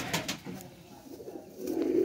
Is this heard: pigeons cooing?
yes